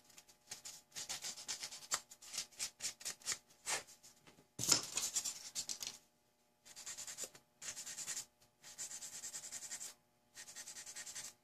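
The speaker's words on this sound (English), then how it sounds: "I'm going to smooth those down a little bit." Close, dry scratchy rubbing of a sanding sponge in short repeated strokes, with brief pauses between passes and one louder scrape midway.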